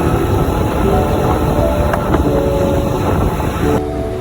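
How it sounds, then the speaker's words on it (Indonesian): A ride on a Jakarta train, heard from inside the carriage: a loud, steady rumble with faint squealing tones and rail noise, with no talking. "saya berencana untuk merasakan bagaimana rasanya menaiki MRT"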